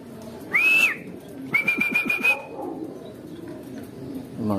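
Two clear pigeon calls, a short rising whistle then a longer warbling call, ring out close by over a quiet background.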